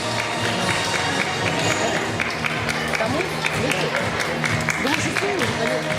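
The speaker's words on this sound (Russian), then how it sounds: "Ваши аплодисменты." Audience applause at a children's gala concert, dense and steady clapping filling the whole stretch, with crowd murmur and bits of voices mixed in.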